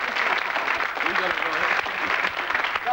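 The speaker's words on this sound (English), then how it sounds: "What about giving them a round of applause, Alan?" Studio audience applause on a 1980 British TV game show, a steady wash of clapping sustained throughout, with faint voices mixed in beneath it.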